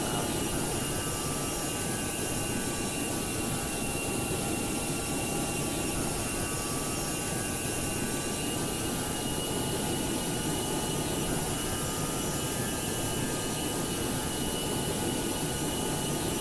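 Steady broadband roar of an Airbus A321neo's jet engines climbing toward 12,000 feet after leaving Heathrow in a flight simulator, continuous and even throughout with no talk.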